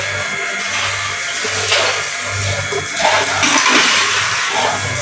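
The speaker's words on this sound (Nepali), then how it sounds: "अब चाहिँ म पानी हाल्छु यहाँ पानी" Water pours and gushes loudly and steadily while dishes are washed, a constant close rushing with slight surges.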